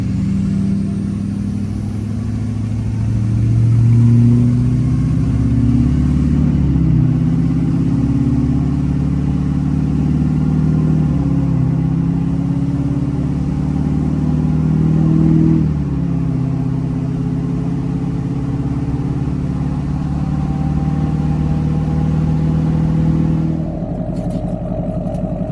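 A car engine pulls steadily up a climb, its loud mid-range drone rising and falling in pitch as it accelerates through gears, with continuous near engine noise and a brief change near the end.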